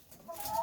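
Laying hens in a backyard flock of fifteen give a short, rising cluck, close by and fairly clear over light background noise.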